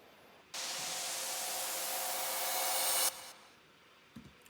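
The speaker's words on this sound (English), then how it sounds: "So that's just a reverse crash." A reverse crash cymbal effect in a tropical house track: a dense hiss that rises gradually over about two and a half seconds, then cuts off abruptly, followed by near silence with a faint low thump.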